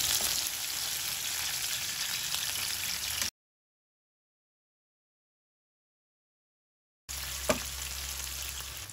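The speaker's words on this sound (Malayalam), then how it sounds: "നമ്മൾ മീൻ എണ്ണ ചൂടാക്കി ഇട്ട് കൊടുത്തു അപ്പോൾ ഒരു സൈഡ് ഫ്രൈ ആയിട്ടുണ്ട് നമുക്ക് തിരിച്ചിട്ട് കൊടുക്കാം" Fish sizzles steadily in hot oil in a pan while being fried for a Kerala-style fish fry. The hiss cuts to silence, then resumes with a sharp clack as the fish is flipped.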